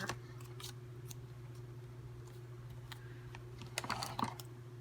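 Scissors snip through craft material for a 2013 button farm kit, a few short cuts near the end over a steady low electrical hum, with faint earlier snips.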